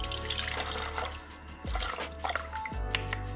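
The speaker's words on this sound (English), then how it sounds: "650 grams of water, warm water." Warm water, 650 grams of it, pours into a bowl for sourdough bread dough, a close trickling and dripping splash over a steady low hum with a few brief dips and surges.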